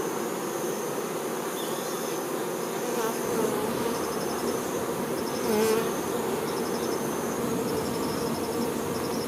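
Honeybees building their hive make a dense, continuous buzzing hum, close and steady, with faint higher whirs passing through.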